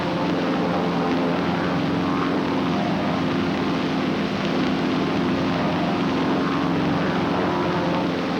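Propeller airplanes flying in close formation, a continuous droning engine roar with steady low hum and broadband rush, sustained at constant loudness without pauses or voices.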